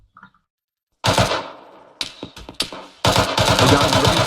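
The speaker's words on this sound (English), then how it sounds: "We think it's a Zeus cannon inside the town." A Zeus anti-aircraft cannon fires in the video game Arma 3, with loud rapid bursts of automatic cannon fire after a short quiet gap, first a long burst, then a few separate shots, then another sustained burst.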